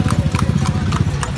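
Horse hooves clip-clop steadily and close by, a quick, even rhythm of hard strikes with a faint engine-like hum beneath, while a horse-drawn kalesa carriage rolls along a road.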